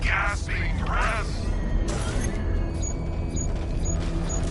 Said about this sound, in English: The explosion disabled the main cannon.